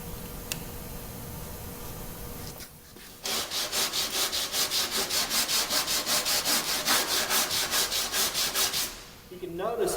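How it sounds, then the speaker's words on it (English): Hand block sanding of hardened Bondo body filler with coarse 36-grit paper produces a quick run of rhythmic rasping strokes, about twenty close, even back-and-forth scrapes, after a brief pause, with no talking. "So I'm going to go ahead and finish sanding this out."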